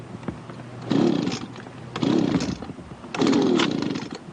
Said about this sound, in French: Alors, j'ai là un souffleur.